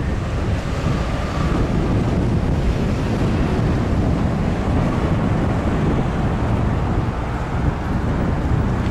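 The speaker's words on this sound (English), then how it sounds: "We are close to the beach." Ocean surf on a beach in Arica, Chile, a constant loud wash of breaking waves heavily mixed with wind buffeting the microphone.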